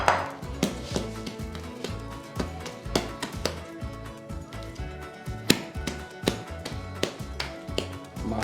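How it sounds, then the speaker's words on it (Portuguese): Christmas sweet bread dough is kneaded on a table, giving irregular soft thumps and slaps in a loose repeating rhythm, moderately quiet and close, with no talking. "agora eu vou colocar na mesa para sovar na mesa"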